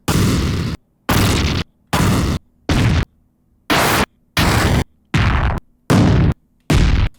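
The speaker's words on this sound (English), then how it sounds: "We have 34 different explosions." A series of nine loud game sound effect explosions, each a heavy blast with a short rumbling tail, separated by brief silences.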